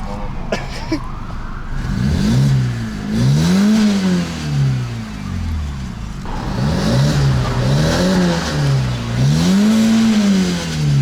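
A BMW E90 engine revving hard in rising and falling sweeps over a steady idle, loud and close, with a few brief voices near the start.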